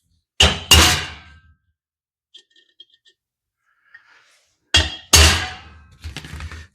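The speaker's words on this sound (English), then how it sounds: "I'm going to hit it with a real center punch" Sharp metallic strikes of a center punch on metal during air horn mounting fabrication on a Ford SuperCab: two loud close hits, a few faint light taps, then two more loud hits and a brief clatter.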